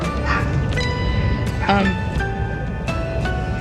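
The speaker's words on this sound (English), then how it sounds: "the neighbors' dogs are like going crazy" Neighbors' dogs bark excitedly in the background, a few short yips and barks scattered over several seconds, mixed with a person talking nearby.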